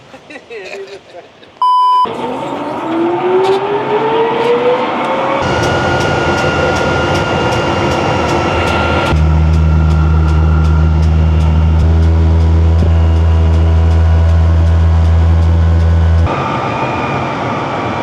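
A jet engine on a jet-powered car spools up in a car park with a rising whine that builds into a loud, sustained roar, with beeps and people talking in the background.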